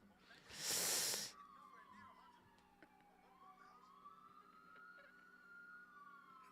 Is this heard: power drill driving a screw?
no